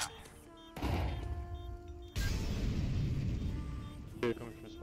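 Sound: flashbang grenade going off in video game

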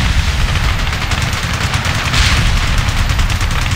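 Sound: heavy gunfire in video game Ace Combat

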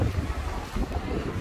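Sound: wind at the beach

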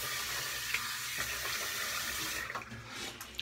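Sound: running water while wetting the face for shaving

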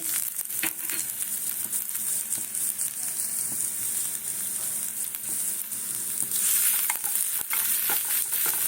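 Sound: garlic frying in a pan for momo sauce

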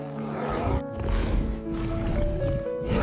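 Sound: saber-toothed tiger roaring as it charges

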